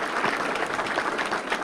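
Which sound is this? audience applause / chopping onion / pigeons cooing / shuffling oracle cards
audience applause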